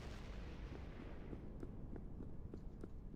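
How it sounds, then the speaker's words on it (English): Meteor defense cannons fire in the Factorio: Space Exploration game, a series of distant booming thuds repeating irregularly over a low rumbling background. "Oh, so meteor defense. I was thinking that sounds like a delivery cannon."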